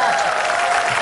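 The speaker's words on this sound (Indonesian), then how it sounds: "tepuk tangan lagi" A studio audience on a television game show breaks into applause, brief and loud, mixed with crowd noise and a sustained tone.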